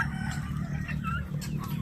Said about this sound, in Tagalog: Sumasagot yung pabo.